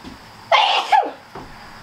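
A single sharp sneeze bursts out close by while flower bouquets are built, followed by a brief softer breathy sound.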